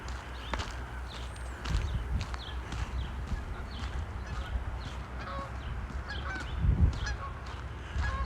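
Distant geese honk repeatedly across the scene over low rumbling background noise and a few soft footfalls, on a March street walk in Regina.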